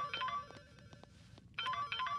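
A phone ringtone plays a bright electronic melody in two short bursts, with a brief quieter gap between them and no talking.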